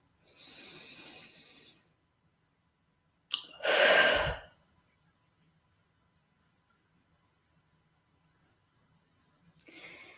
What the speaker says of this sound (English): Big deep breath in, really filling up your lungs from the bottom to the top and blowing it out.